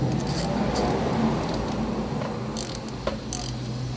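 A ratchet wrench tightens a cylinder head bolt on a Honda Wave 125 motorcycle engine, giving rough metallic clicking and grinding close by, with a few sharper bright ticks.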